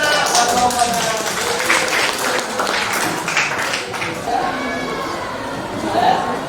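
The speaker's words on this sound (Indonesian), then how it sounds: "kita beri tepuk tangan" Group applause for a presenting team in a class session, a steady dense spatter of clapping hands at moderate loudness throughout, with faint voices mixed in.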